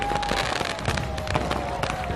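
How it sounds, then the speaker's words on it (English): Fireworks going off at an amusement park at night, a dense continuous crackle and bursts of pops filling the air, with faint crowd noise beneath. "There's still a fireworks show to enjoy."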